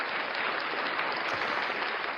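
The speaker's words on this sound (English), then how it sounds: "Applause to you." Applause on an evening news comedy show, a steady wash of clapping held at an even level, moderately loud and unbroken for the whole short stretch.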